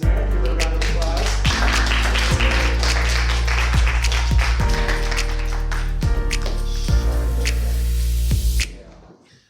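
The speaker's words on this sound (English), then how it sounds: "Miss Sharon Eisner, give her a round of applause." Audience applause at a live storytelling slam event, a sustained dense clapping texture over a low steady hum with periodic sharp transients, continuing strongly before fading out abruptly near the end.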